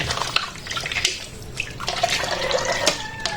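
Tap water runs into a sink during dishwashing, a steady hiss and splash with scattered drips and clinks of dishes, close and fairly loud with no talk.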